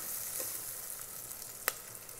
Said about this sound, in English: We can fry onion and green pepper together.